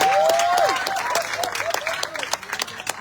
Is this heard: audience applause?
yes